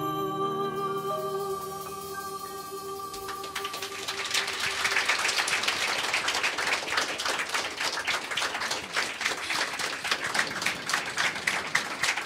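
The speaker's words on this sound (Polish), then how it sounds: "należą się duże brawa" An audience bursts into sustained applause as a sung song's final notes fade out, dense clapping building and holding steady, broad and lively in a hall.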